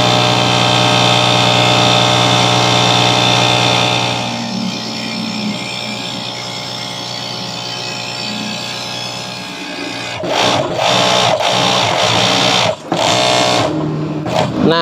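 An overlock sewing machine hemming the edge of a khimar jilbab gives a loud, steady mechanical whir. It quiets partway through, then runs up again with a few sharp stops and restarts.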